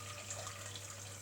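Tap water runs steadily into a cooking pot being filled for boiling pasta, a constant soft rushing close by with no voices.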